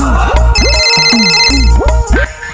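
A phone rings loudly indoors with a repeating electronic ringtone of short rising tones in quick succession, heard alone without talk.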